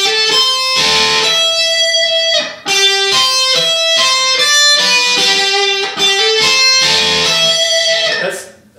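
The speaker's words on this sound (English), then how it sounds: "you turn on your effects unit and you kind of sound like this." Electric guitar played through a digital effects unit with a thin, ratty tone, loud sustained chords and single notes with bright, buzzy overtones, ringing continuously with short breaks between phrases.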